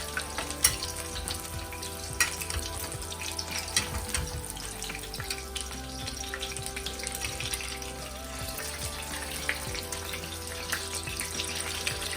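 Meatballs sizzle and fry steadily in a hot pan while being basted, the dense crackle continuous and close throughout, with occasional scraping and spoon clinks from the basting.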